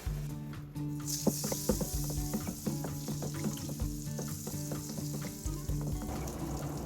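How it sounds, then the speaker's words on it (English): Butter melting in olive oil in a pot, sizzling and hissing steadily up close, with light stirring scrapes and small crackles throughout. "So now we're going to add 1 tablespoon of olive oil to our pot and 2 tablespoons of butter."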